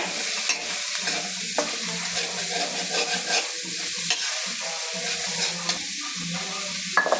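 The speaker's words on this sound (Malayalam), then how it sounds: "രണ്ട് ഉള്ളി ഇടുകയാണ് വഴുത്താൻ ഇനി നല്ലതായിട്ടൊന്ന് വഴന്ന് വരട്ടെ" Two onions sautéing for chicken curry sizzle steadily in a hot pan, with a continuous close frying hiss broken by occasional stirring scrapes and no talking.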